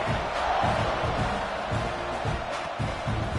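Football stadium crowd at a Mississippi State vs Texas A&M college game roaring steadily before a kickoff, a loud, dense wall of cheering with no clear breaks.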